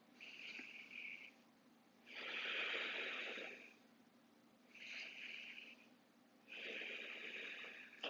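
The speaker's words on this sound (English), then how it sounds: "we're going to practice our diaphragmatic breathing first." A person doing slow diaphragmatic breathing for diastasis recti, four long audible breaths alternating in and out, close and steady with quiet gaps between.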